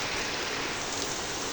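Heavy monsoon rain pours down in a steady, dense hiss, close and loud, an even wash of drops on surfaces with no break and no talking.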